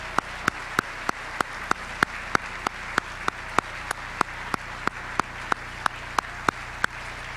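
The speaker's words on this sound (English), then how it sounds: "Let's give these wonderful scholars one more round of applause." An audience claps for honor society scholars at a school ceremony. One loud, close pair of hands beats a steady, evenly spaced rhythm over a soft background of wider crowd clapping.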